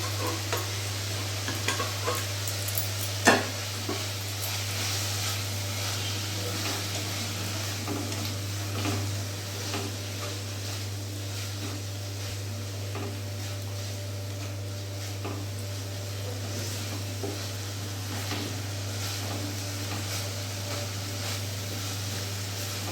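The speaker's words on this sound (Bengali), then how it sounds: "এবার আমি ভাজা আলুগুলো দিয়ে দেবো।" Fried potatoes go into a pan of steamed egg curry and are stirred, giving a steady close sizzle with scraping and clinking over a constant low kitchen hum.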